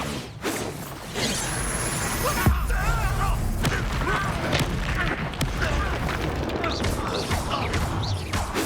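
A Bombarda blasting spell from Hogwarts Legacy goes off with a booming crash and debris, layered among busy game effects and music, with voices talking over the action.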